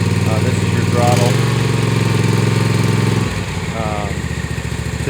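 Engine of a Cutting Edge CE52T remote-control lawn mower running steadily up close, its note dipping partway through as the throttle changes, with someone talking over it.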